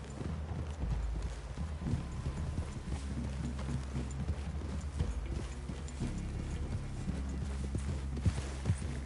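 Steady clip-clop of horse hooves walking over a low rumbling background in Red Dead Redemption 2, continuous and moderately loud, with no talking.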